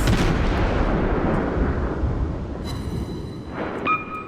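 A warship's main battery guns fire in the World of Warships naval video game, a loud, deep booming blast followed by a rumbling decay, then faint tonal game effects near the end.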